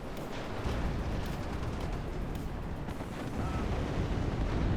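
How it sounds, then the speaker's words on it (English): An Mi-24 helicopter opening fire in the WARNO war game, a dense, continuous roar of rocket and gun fire with rumbling blasts, loud and sustained with no clear gaps. "Mi-24 opening fire again"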